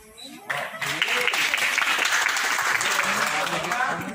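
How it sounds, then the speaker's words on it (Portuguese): Circus audience applause swelling up after a brief quiet start and continuing as a full, sustained clatter of many hands, with a voice faintly audible near the beginning. "Palmas."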